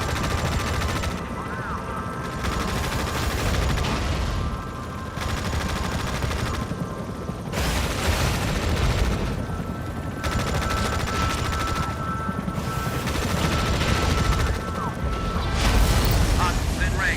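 Units open fire in Tom Clancy EndWar: repeated bursts of automatic gunfire and mechanical clatter come in waves over a dense battlefield din, with voices mixed in.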